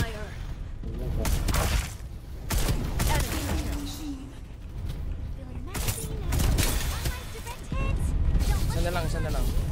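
Rapid gunfire in the Farlight 84 video game, dense bursts and thumps layered over a busy mix, with a voice talking over the shooting throughout.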